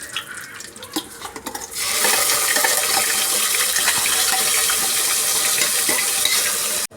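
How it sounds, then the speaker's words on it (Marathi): Ground masala paste hits hot oil in a pan with curry leaves, bursting into a loud, steady sizzle after a quieter start, the broad hiss holding close and constant until it cuts off at the end. "आता वाटलेलं वाटण टाकते मी।"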